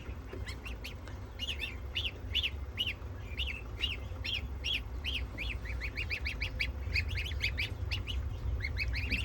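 Goslings peep in repeated high, shrill calls, one separated from its companion and calling insistently throughout, over a low steady background rumble.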